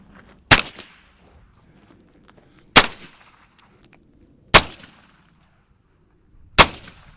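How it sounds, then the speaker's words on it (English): Four sharp, loud gunshots fired one at a time at a car's structural steel pillar, each a hard crack with a short ringing tail, spaced about two seconds apart with near silence between them. "have Angel shoot into the pillar"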